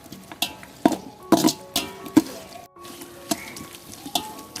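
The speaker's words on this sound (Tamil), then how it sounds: "தக்காளி நல்லா வதங்கட்டும்." Tomatoes sauté in a pan for a spicy chicken biryani, giving a low sizzle punctuated by irregular clinks and scrapes of a spoon stirring against the pan, close and moderately loud, with no talk.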